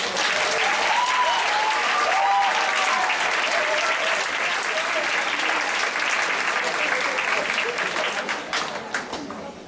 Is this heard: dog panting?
no